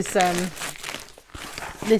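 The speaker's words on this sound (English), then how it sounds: "So I'm sorry about the rustling, can't really be helped, it's wrapping" Gift wrapping paper crinkles and rips open in close, uneven rustles, mixed with bits of talk during a birthday parcel unboxing.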